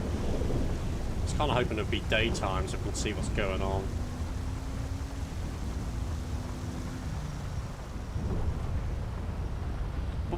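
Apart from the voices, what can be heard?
thunder, from the video game GTA 5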